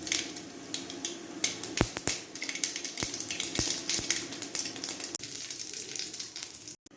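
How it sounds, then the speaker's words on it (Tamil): Mustard seeds and urad dal hit hot oil for tempering chutney, producing a bright sizzle with scattered sharp pops and crackles that gradually settle. "எண்ணெய் காஞ்சிச்சு, கடுகு உளுந்த பருப்பு போட்டுக்கலாங்க."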